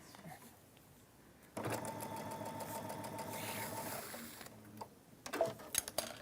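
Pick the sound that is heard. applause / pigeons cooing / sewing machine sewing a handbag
sewing machine sewing a handbag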